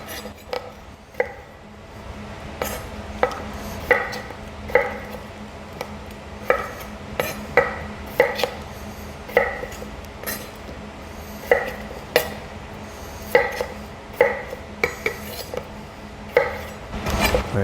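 Knife strikes a cutting board in a steady run of sharp, evenly spaced chops while vegetables are cut into quarters, close and distinct over a low background hum.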